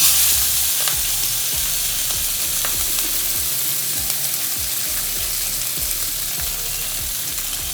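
Pieces of fish fry loudly in a pan for fish curry, a strong steady crackling sizzle with rapid spitting pops, close and continuous with no talk.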